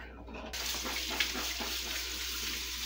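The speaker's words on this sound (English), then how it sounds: "I'm gonna rinse my beans though." Tap water runs steadily into a sink as beans are rinsed for a homemade chicken and vegetable soup, a soft, even splashing that starts abruptly and continues without talk.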